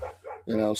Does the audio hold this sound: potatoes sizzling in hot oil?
no